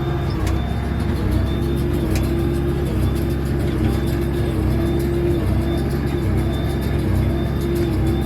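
A tractor engine idles steadily at close range during haymaking, a constant low rumble with a faint whine on top and no talk.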